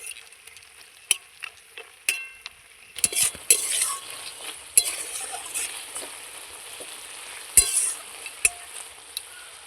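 Fresh greens stirred in a kadai, with sharp utensil scrapes and knocks against the pan over a soft sizzle, louder bursts as the leaves are turned, no talk.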